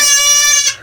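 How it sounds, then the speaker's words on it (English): A goat on a small farm lets out one loud, close, strained bleat, a harmonic-rich cry lasting under a second that breaks off sharply, with no talking over it. "Goats are crying for me."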